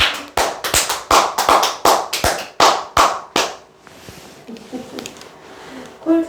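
An audience at a sales coaching session claps in a loud, steady rhythm of about a dozen sharp hand claps, then stops, leaving faint room noise and a few soft sounds.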